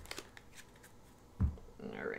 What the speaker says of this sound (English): I just shuffle and I take the first card